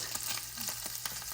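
Sausage fries in a pan with a soft, continuous sizzle and crackle, small pops scattered through it, faint and close with no voices.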